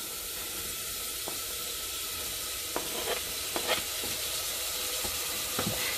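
Tomatoes hiss and sizzle in a hot pan as they are added for a dhansak, a steady close frying sizzle with a few faint clinks and stirring scrapes, no talking.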